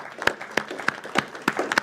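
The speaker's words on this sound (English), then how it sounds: "Another round of applause for our hardworking board members" Scattered clapping from a small group in honour of hardworking board members, a handful of distinct claps in uneven rhythm, moderately close, with faint voices under it.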